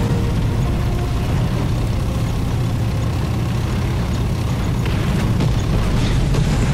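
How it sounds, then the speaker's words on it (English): Artillery barrage in War Thunder rumbles as a continuous low roar of distant explosions and thudding impacts over a tank engine's drone, steady and loud with a few sharper hits near the end. "now I don't feel like driving into the artillery barrage"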